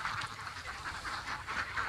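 Ducks on an Aceh Besar farm quack continuously in a dense, overlapping chorus, moderately loud and close, with no voices heard.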